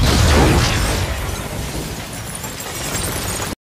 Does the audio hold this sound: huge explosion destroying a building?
yes